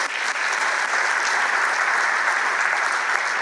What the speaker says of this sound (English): we can clap about that